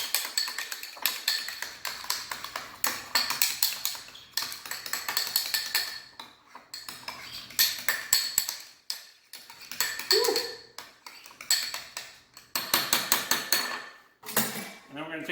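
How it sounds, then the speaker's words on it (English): A utensil scrapes and clinks against a bowl while seasoning with cayenne pepper flakes is stirred, in repeated quick bursts of rattling taps with short pauses between them, close and fairly loud, no voices. "I'm going to stir that up."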